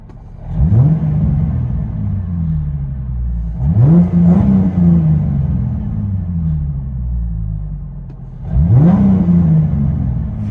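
Ford Mustang engine with a five-speed manual, no rev limiter and dual exhaust, heard from inside the car as it revs three times, each rise loud and rumbling over a steady idle.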